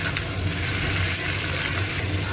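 Vegetable curry with cauliflower, salt and turmeric sizzles steadily in a pan, a close continuous frying hiss with faint scraping of stirring and no voices.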